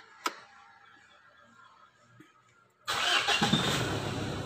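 A Mitsubishi Strada Triton engine starts after a quiet lead-in with a couple of small clicks, cranking briefly and catching into a loud, steady idle close by.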